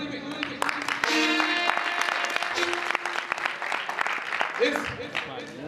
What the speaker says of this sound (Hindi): आप लोगों की तालियों की गूंज में